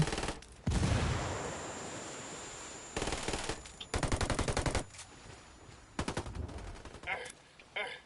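Gunfire in the video game Ghost War, with loud, close bursts of rapid automatic fire separated by short pauses and a single shot near the end.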